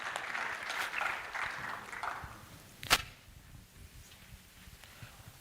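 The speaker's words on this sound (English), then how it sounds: "Clap a better round of applause for the moderator." An audience at the Africa-Asia Youth Forum claps for the moderator, a dense mid-range patter that fades after about two seconds, followed by a sharp single crack and quiet room noise.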